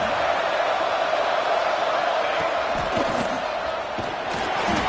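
A large stadium crowd roars steadily at an Oregon vs Hawaii college football game, a dense, continuous wash of noise with no clear breaks.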